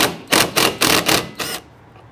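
Ratcheting clicks from a 13mm socket loosening the rear wiper arm nut on a 2007-2014 Cadillac Escalade: five quick, close bursts in a steady rhythm, then a faint tail with no talking.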